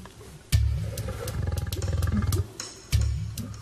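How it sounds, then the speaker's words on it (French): White lions fight at a game reserve, with deep, rumbling roars and growls that rise in rapid pulses, then drop off and return in a second loud burst, heard close and without talk. "il se bat violemment avec les autres lions de cette troupe."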